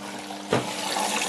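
Water pours and splashes into a container, rising to a brief louder gush mid-way and then continuing as a steady close rush, with no voices.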